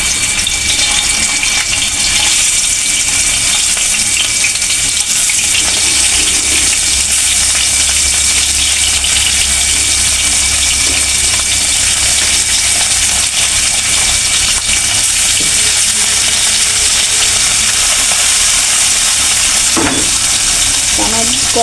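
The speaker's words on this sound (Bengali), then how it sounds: "আমার তেলটা গরম হয়ে গেছে, তা আমি মাছগুলো এরকম করে দিয়ে দিব।" Puti fish fry in hot oil in a large wok, giving a loud, steady sizzle that runs unbroken throughout with no talk over it.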